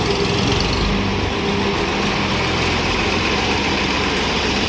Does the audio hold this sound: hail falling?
no